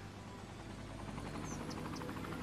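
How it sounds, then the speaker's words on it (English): Distant medical or fire helicopter in the city-building game Cities: Skylines on PS4, a faint steady rotor buzz and hum throughout with no voices. "Got a medical helicopter, I think. Might have been a fire helicopter."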